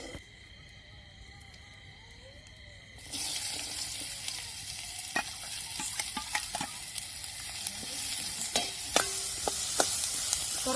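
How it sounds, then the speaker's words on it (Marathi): Onion fries in oil in a pan, starting as a quiet hum and then breaking into a steady close sizzle after a few seconds, with sharp scraping clicks as it is stirred. "आता आपण कांदा पण टाकलेला आहे परतायला आणि चांगला लाल लाल चटक कांदा आपण परतून घ्यायचा आहे"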